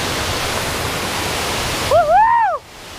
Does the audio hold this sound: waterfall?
yes